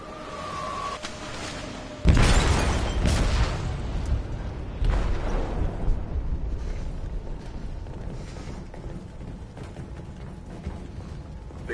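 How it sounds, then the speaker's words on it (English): A loud explosion booms through a ship's hold in the video game Detroit Become Human, a sudden blast followed by several seconds of rumbling, rolling debris and clattering mechanical noise that slowly fades. "They detonated an explosive in the hold."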